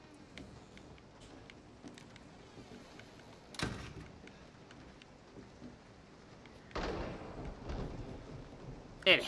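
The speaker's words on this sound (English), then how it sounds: "It had to be a thunderstorm." Thunder rolls during a thunderstorm in the virtual-reality horror game Resident Evil 7, two distant rumbling crashes rising out of a faint ambient bed, followed by a brief sharper sound at the end.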